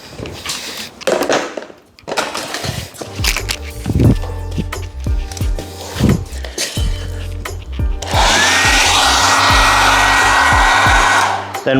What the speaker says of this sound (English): Then run the heat gun for about 5 minutes.